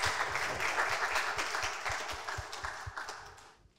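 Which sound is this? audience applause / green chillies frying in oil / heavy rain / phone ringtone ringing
audience applause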